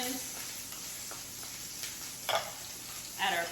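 Onions sizzling as they fry in a pan, a soft continuous hiss with a few brief scraping stirs and louder bursts as the food is moved, fairly quiet and close.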